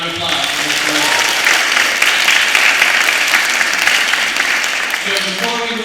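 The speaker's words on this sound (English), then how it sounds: "Round of applause for Mr. Willey." A school audience applauds a guest speaker at a middle-school welcome talk, with loud, sustained clapping from many hands in a room, a voice briefly heard at the start and end.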